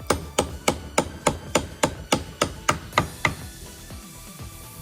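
Old stuck bolt hammered out of a scrap-wood plank secured to a workbench: about a dozen sharp, evenly spaced metallic-wooden blows in quick succession, loud and close, then a quieter stretch with a few soft knocks.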